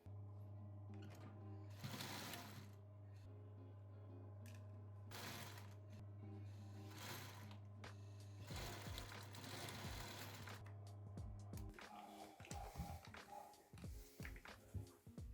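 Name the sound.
sewing machine stitching close to the fabric edge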